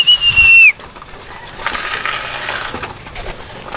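Hungry racing pigeons are fed, with a brief shrill squeal at the start followed by soft scuffling, wing flutters and pecking close by.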